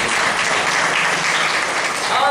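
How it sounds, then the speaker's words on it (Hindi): Sustained applause from a church congregation, loud and dense clapping filling the whole stretch without a break. "जोरदार ताली बजाओ।"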